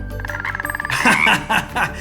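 A frog croaking in the Wonderbox video game, a loud close rapid run of croaks lasting about two seconds.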